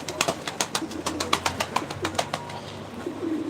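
Close, busy cooing from a flock of pigeons in a loft, repeated rhythmic calls overlapping with no pause.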